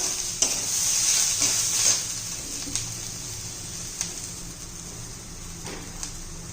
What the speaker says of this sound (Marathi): त्यात हा लसूण घालूया दहा बारा पाकळ्या एक इंच आलं घालूया हे बरोबर चांगलं परतून घेऊ आपण